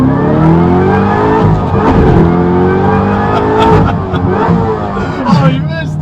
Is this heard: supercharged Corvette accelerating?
yes